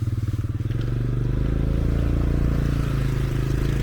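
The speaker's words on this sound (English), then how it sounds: "You go motorbike?" Motorbike engine droning steadily with a pulsing low rumble while riding along a rural road in Vietnam, close and continuous with slight rattling over the surface.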